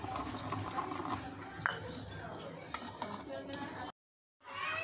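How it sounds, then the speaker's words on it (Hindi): Water being stirred into dhokla batter in a bowl, with soft wet sloshing and light utensil scraping that runs steadily, then a brief silent gap before the stirring resumes. "इस बैटर के अंदर हमने पानी मिक्स किया है"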